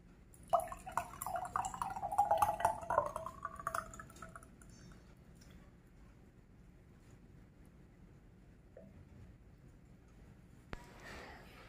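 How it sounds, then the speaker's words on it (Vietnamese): Malva nut, aloe vera and chia seed drink is poured into a glass, a few seconds of close, bubbling liquid splashing that tapers off into near silence, followed by a faint clink near the end. "Bây giờ sún sẽ rót ra ly và mời mọi người thôi."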